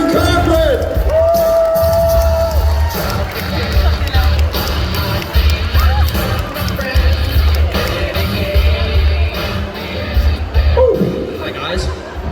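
Live audience at a horror fan event cheering and applauding as actresses Jenna Kanell and Catherine Corcoran come on stage, loud crowd noise with yells and claps under an amplified voice.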